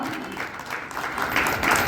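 An audience at an award ceremony for a political gathering claps together, a dense, steady patter of many hands that grows slightly louder over two seconds.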